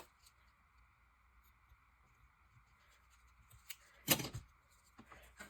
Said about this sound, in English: Okay, I'll just snip it.